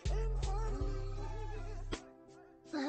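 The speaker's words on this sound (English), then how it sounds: "Oh, so now there's the dog, then the goat." Goat bleats in a short wavering cry, clear and close, followed by a quieter second call.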